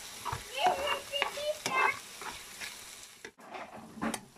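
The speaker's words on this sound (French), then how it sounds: "Je mélange." A spoon stirs ginger and soy sauce sizzling in a pan, giving a soft frying hiss with several light clinks and scrapes against the pan, fairly quiet and close.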